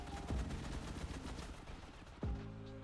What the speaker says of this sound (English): That's not even me shooting, that's my other turret.